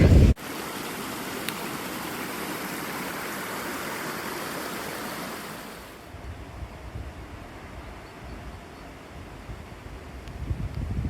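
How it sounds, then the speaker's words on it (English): Mountain streams rush in heavy rain in Norway, a dense continuous roar of flowing water that drops in level about halfway through, leaving a softer steady wash with a few faint knocks near the microphone. "Streams absolutely everywhere."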